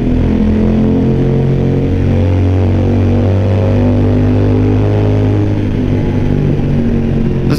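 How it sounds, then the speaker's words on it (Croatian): A 2014 Suzuki V-Strom 1000 motorcycle engine rumbles loud and steady at close range, its exhaust a deep, continuous drone that holds without a break throughout. "Zvuk je dosta glasan i bučna je mašina, a na kraju se zvuk čuje ko skuter neki"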